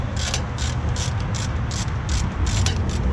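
A ratchet loosens brake caliper bolts on a 2009-2014 Ford F-150 front brake job, with evenly spaced bursts of close clicking over steady background noise.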